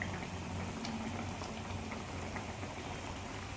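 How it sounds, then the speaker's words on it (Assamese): A pan of potato and papad curry bubbles steadily on the stove, a soft continuous simmering hiss with faint pops, close and even throughout with no voices. "সুন্দৰকৈ উতলি আছে এইখন।"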